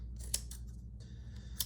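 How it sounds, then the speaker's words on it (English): Scissors cut through double-layered, tape-reinforced poster board: a few crisp snipping strokes with sharp blade clicks, close and quiet, isolated against a faint room hum with no talking. "I'm gonna take my scissors and I'm gonna trim this"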